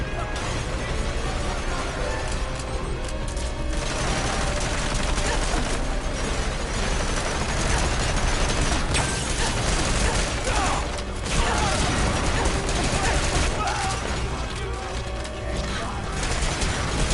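Sustained, dense gunfire and mechanical clatter from the Metal Gear Solid V video game, a continuous loud barrage of rattling shots and metallic crashes lasting throughout, with voices mixed in.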